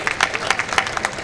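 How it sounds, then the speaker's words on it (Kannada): An audience at a district-level government employees' sports and cultural meet breaks into applause, a dense, quick patter of many hands clapping at once, steady and fairly loud. "ಜೋರಾದ ಚಪ್ಪಾಳೆಯ ಮೂಲಕ ಧನ್ಯವಾದಗಳನ್ನು ಅರ್ಪಿಸತಕ್ಕಂಥ ಕೆಲಸವನ್ನ ಮಾಡೋಣ"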